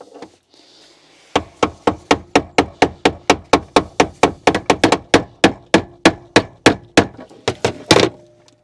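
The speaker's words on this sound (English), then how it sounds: "we'll bring our hammer and chisel and just tap this round until it is securely into place" A hammer strikes a chisel to tap a fuel filter part into place on a Mini Cooper, about two dozen sharp, close metallic knocks at a steady, even rhythm.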